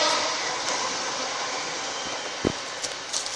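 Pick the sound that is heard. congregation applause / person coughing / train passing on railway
train passing on railway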